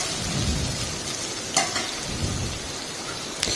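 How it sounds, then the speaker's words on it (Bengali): Fried snails tipped into spices cooking in a pan give a steady, close sizzle of frying with sharp clacks of a utensil against the pan, heard alone without voices. "এবারে দিয়ে দেব ভেজে রাখা শামুক।"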